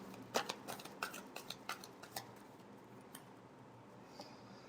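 Tarot cards shuffled in a run of quick, crisp riffling clicks over the first couple of seconds, fading to a few scattered taps, quiet and close.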